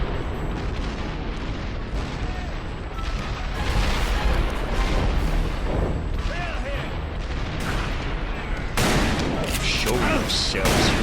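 Rapid heavy gunfire and explosions in a Western shooter game, Call of Juarez: Bound in Blood, loud and continuous, with dense battle noise and shouting voices mixed throughout.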